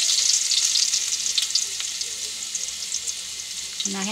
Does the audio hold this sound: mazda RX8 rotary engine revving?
no